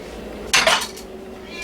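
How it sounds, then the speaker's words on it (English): A knife cuts around an avocado, giving one brief, close scraping clatter of steel against the fruit and cutting surface, with quiet room tone before and after. "So this is how we cut the aguacate."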